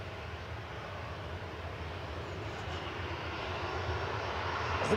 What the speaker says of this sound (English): EasyJet touching down from Amsterdam.